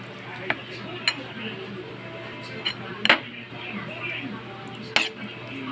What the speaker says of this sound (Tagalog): Halo lang natin yung itlog